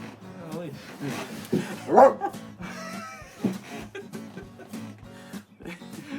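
A small dog barks and yips a few times close by, mixed in with people talking over it.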